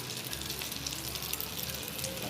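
Half-cooked egg frying in a pan is stirred gently. A steady, faint sizzle with soft bubbling holds throughout, with no distinct stirring strokes standing out.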